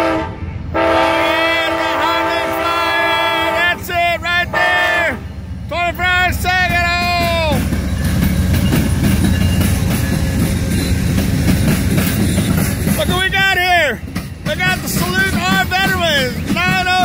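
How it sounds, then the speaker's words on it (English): The Heartland Flyer passenger train passes at Saginaw with repeated loud horn blasts over a rising rumble of wheels and cars rolling by close, while people talk over the noise. "what we all are waiting for is the Heartland Flyer."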